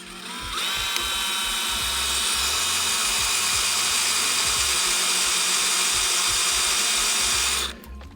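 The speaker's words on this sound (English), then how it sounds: "So let's drill some holes." A power drill whines steadily at close range as it bores into metal on a dump truck, running continuously for several seconds before stopping abruptly.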